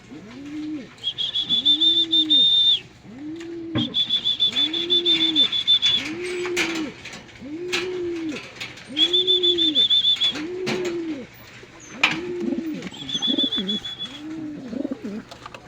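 Pigeons coo close by in a steady repeating series of soft throaty calls, with occasional higher chirps and light wing sounds mixed in.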